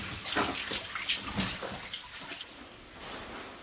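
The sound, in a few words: waterfall inside a flooded 1890s copper mine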